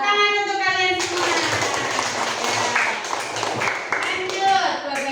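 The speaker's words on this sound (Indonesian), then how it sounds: "Tepuk tangan untuk kalian semua." Children in a primary school classroom break into a burst of clapping after a brief tone, the dense patter filling the room and lasting several seconds, with a little voice mixed in.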